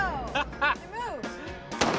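A gunshot cracks once near the end, sharp and close, aimed to blast a pistol across a dirt surface; excited voices talk and react through the rest of the moment.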